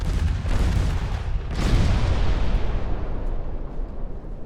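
A torpedo detonates in the naval warfare game Ultimate Admiral Dreadnoughts, a heavy rumbling boom that swells sharply near the middle, then rolls and decays slowly into a low, fading roar.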